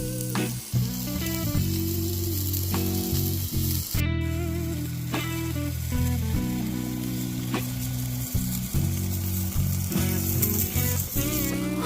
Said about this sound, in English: Let's see what the sizzle factor looks like tonight.